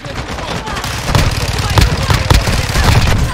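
Gunfire in the Call of Duty Warzone 2.0 video game, a loud, dense clatter of rapid shots and sharp bursts running throughout, heard up close with a busy mix of game noise.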